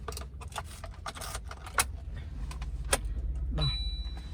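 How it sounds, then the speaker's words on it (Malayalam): A Maruti Baleno petrol car is switched on with its key. Keys jangle and click in the ignition, then an electronic chime sounds and a low hum swells as the car comes on, all close and fairly quiet. "വണ്ടി ഞാൻ ഓണാക്കി കാണിച്ചു തരാം"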